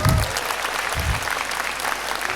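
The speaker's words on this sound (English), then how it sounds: "Give him a round of applause for that" Audience applause fills a lecture hall after an introduction of Tony Fernandes, a dense steady patter of many hands clapping at even loudness throughout, with no voices over it.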